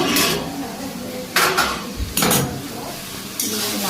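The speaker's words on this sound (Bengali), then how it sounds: "ঢাকনাটা খুললাম" A lid lifted off a cooking pot during cooking, giving a few sharp, close metallic clanks and scrapes spaced apart, with softer clatter between them.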